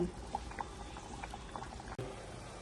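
A pot of Cambodian soup with kantieng boils on the stove, its faint, continuous bubbling and gentle liquid gurgles carrying on steadily throughout.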